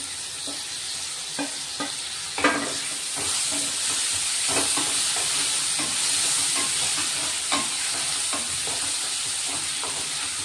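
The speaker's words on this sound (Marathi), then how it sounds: "कांदे चांगले परतून झालेत, आपण आता टोमॅटो टाकून घेऊ" Tomatoes go into sautéed onions in a pan while bitter gourd (karela) sabzi is being made, giving a steady loud sizzle with bursts of clacking stirring throughout and no talking.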